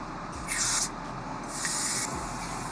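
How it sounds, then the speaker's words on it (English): A car interior deodorizer fogger sprays into the air, two close, hissing bursts about half a second each, separated by a brief pause over a steady background hum. "this is going to spray out in the air here"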